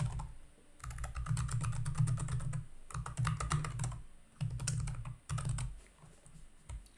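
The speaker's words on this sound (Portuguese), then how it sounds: "E aqui dentro eu vou digitar 100 valores." Fast typing on a computer keyboard while entering values in the Sublime text editor: close, clattering bursts of keystrokes with brief pauses between runs.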